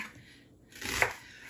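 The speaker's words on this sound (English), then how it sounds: "go ahead and just dice up this onion" A knife dices an onion quickly on a cutting board in a short, soft burst, with no talking.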